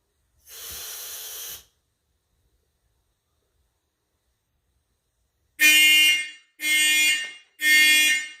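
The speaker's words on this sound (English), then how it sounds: "now we will be testing the smoke alarms, but we're gonna do that all at once" A vintage Simplex fire alarm system under test sounds one long horn blast, falls silent for several seconds, then gives three loud, evenly spaced blasts close by.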